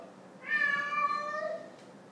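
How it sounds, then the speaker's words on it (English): A cat lets out one drawn-out, clear meow, fairly close and loud against a quiet room, while house cats play a wild game; the call rises and then trails off. "The cats are playing some crazy game right now. Can you guys hear that?"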